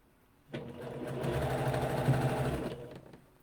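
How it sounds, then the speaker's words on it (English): A serger runs in one steady, close whirring burst of about two seconds while stitching a curved shirt neckline, starting and stopping abruptly. "just like when we fed the hood into the serger, we want to feed this in as it curves"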